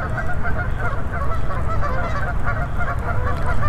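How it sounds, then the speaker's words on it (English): A flock of geese honks and squabbles nearby at a waterside fishing spot, the calls loud, dense and continuous, overlapping in a constant chattering din. "These geese are not gonna make it easy for me, man, with all the chatter and noise that they're making over here"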